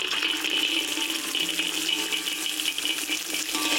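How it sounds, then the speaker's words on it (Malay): Washed, dried peanuts are poured into very hot oil in a wok, giving a continuous rattling, hissing sizzle that stays steady and moderately loud, with no voices. "Bila minyak dah betul-betul panas, boleh tuang masuk kacang tanah yang kita dah basuh"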